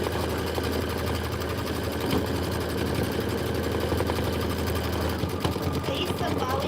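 A sewing machine runs a rapid, continuous satin stitch up close, its needle chattering in a dense, even buzz without pause.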